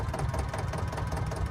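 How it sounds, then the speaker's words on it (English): Zetor tractor engine idling in Farming Simulator 22, a steady low chugging diesel knock with an even rhythmic beat, close and unbroken. "Do love the sounds of this Zetter."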